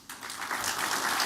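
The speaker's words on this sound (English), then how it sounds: "I ask that we give them all the necessary support and a great round of applause" A congress crowd at an agricultural grain industry gathering breaks into applause, a soft wash of many hands clapping that swells quickly and holds steady, heard at a distance without talk.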